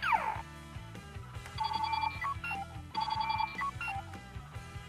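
A capsule toy Astro Switch from an NS magnet switch set plays an electronic sound effect of bright, ringing chime-like tones in two repeated bursts over a low pulsing pattern, fairly quiet and close.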